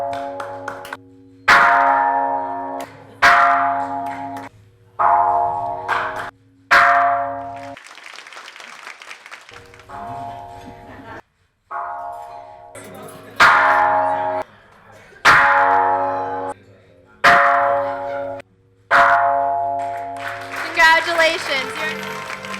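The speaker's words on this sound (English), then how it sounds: "Please ring the bell." A ceremonial world peace bell is struck about eight times, each loud ringing tone sustaining and decaying before the next, with short bursts of applause or crowd noise in the pauses.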